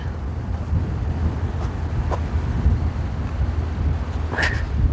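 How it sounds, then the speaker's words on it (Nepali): Steady low wind rumbles against the microphone, a broad continuous roar with a couple of faint brief clicks and a short high chirp near the end. "कति मजाले हावा आएको छ है"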